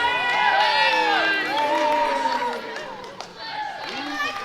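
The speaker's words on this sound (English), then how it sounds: "pretty vocal crowd here tonight" A basketball arena crowd at a netball preliminary final cheers and whoops loudly, with a sustained roar and high shouts swelling and fading over several seconds.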